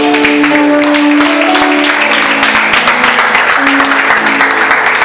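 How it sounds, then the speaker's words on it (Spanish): Loud, sustained applause from a church congregation fills the space, dense clapping continuing steadily throughout with a faint tonal hum beneath. "¿Cuántos pueden darle un aplauso al Señor?"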